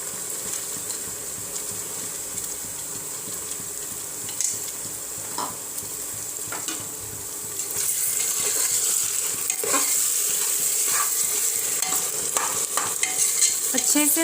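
Tomatoes frying with lightly browned onions for chicken bhuna, a continuous close sizzle with scattered spatula scrapes that grows louder and brighter partway through.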